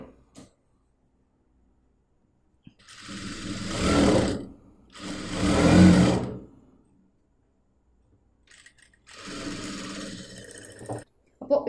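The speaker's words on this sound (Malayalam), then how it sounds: "ഇങ്ങനെ അങ്ങോട്ട് സ്റ്റിച്ച് ചെയ്ത് പോകണം" A sewing machine stitching blouse fabric runs in three loud bursts of several seconds each, separated by silence, with a short whir at the very end.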